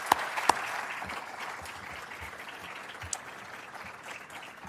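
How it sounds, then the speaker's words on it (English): Audience applause at a crime victims' rights week ceremony at Labor and Industries, a steady moderate wash of clapping with a few sharp nearby claps standing out at the start. "Let's give them one more round of applause"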